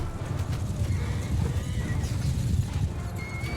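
Horses neigh and whinny amid the galloping clatter of a Mount and Blade Bannerlord video game battle with Khuzait horse archers, a dense, continuous rumble of hooves and noise throughout.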